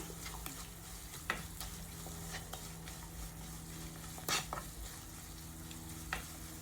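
Carrot halwa is stirred in a pan, soft scraping and gentle sizzling close by with a few sharper clinks of the spoon against the pan, quiet and steady with no voices.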